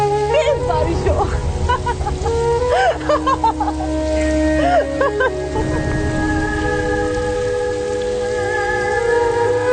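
Heavy rain pouring steadily, a dense hiss under the whole stretch, with voices and some music-like tones layered over it in the first half.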